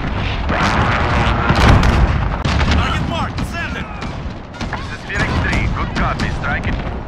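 Roaring A-10 Warthog gun runs tear through Modern Warfare combat, dense loud bursts of rapid cannon fire and booming impacts repeating across the whole stretch, with radio-style game voices and battle noise mixed in.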